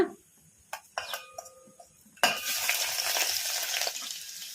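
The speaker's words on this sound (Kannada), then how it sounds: "ಸಾಸಿವೆ ಜೀರಿಗೆ ಚಟ್ಪಟ ಅಂದಿದಾವಲ್ಲ" Oil sizzles and crackles steadily after a few scattered pops and clinks as mustard and cumin seeds splutter on medium flame, becoming a dense, continuous spluttering that fills the rest of the clip.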